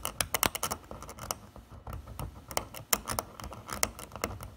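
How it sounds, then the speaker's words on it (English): An X-Acto hobby knife scrapes rust from the edges of a paint chip on a car body, giving quick, irregular close scratching strokes in dense bursts with short pauses. "I'm gonna take my X-Acto on that area along the edges."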